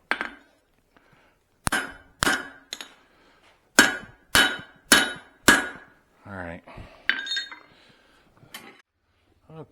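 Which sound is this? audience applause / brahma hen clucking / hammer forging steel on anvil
hammer forging steel on anvil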